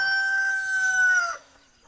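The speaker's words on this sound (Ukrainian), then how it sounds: "От такі пітушки два є в неї." A rooster crows loudly and close on a family farmyard, in one long sustained call that fades out, with faint clucking from chickens in the background.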